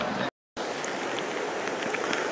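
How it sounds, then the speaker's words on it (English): Steady heavy rain hisses down on a bridge at night near Aberystwyth, a dense, even wash of sound that briefly cuts out near the start before continuing loudly, with no talking. "I don't know how well you can hear the rain. It's coming down very well."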